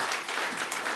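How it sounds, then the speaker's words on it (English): An audience at a live robotics group event applauds, giving a short, dense, even burst of clapping that holds at steady volume. "Big applause again."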